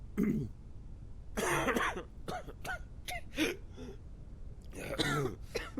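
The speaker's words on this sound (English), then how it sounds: "He's got a cough." A survivor in a quarantine zone video game coughs and clears the throat in short, rough bursts, close and clear, set among sparse voiced sounds.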